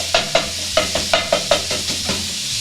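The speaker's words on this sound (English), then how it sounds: "Just chopping this and frying this all up." Chopped ravioli sausage soup ingredients sizzle steadily in a pan while a utensil stirs and scrapes in a quick, uneven rhythm of about a dozen close strokes.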